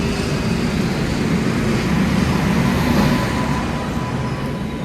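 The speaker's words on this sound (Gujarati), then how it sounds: "ફાઇનલી આપણી ટ્રેન આ ગઈ હે." Surat–Mathura train 19255 pulls into a station platform, a steady, loud, broadband rumble and rush of rolling stock that fills the whole stretch without letting up.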